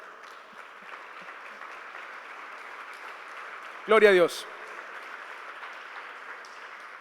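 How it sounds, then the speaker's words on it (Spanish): A church congregation claps in steady, moderate applause through the stretch, while a voice calls out briefly in the middle above the clapping. "dele un fuerte aplauso al Señor."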